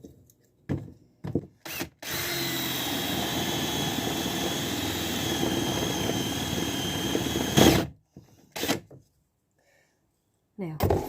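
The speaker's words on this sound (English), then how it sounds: "I'm just going to show you the paddle bit again" A power drill with a paddle bit bores through wood in one long, loud whirring run, framed by short bursts of the drill starting and stopping before and after.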